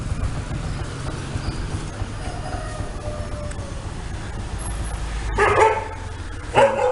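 A friendly dog in a street market in Lào Cai, Vietnam gives two short barks near the end, over steady street ambience, with no talking.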